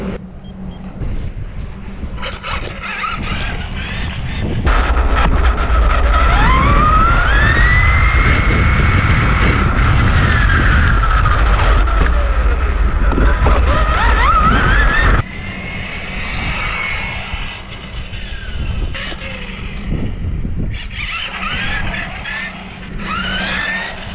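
A Kyosho Nissan Skyline 2000 GT-R RC car on a 2-cell LiPo makes a speed run: a high electric motor whine builds, rises and falls in pitch as the car passes loudly near, then fades back.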